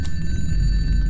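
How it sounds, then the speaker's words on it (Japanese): A telephone rings inside a hospital horror video game, a sustained electronic bell tone held steady for about a second over a low background rumble. "いや、電話だよね"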